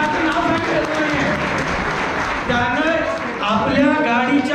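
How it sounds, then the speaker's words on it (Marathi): Applause breaks out for the organising institution at a school reunion gathering, a sustained crowd clapping heard under a voice speaking over it. "अशा या संस्थेसाठी जोरदार टाळ्या झाल्या पाहिजे"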